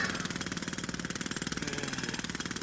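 A rapid, steady mechanical pounding like a jackhammer, hammering continuously at an even rhythm with an engine-like rumble underneath.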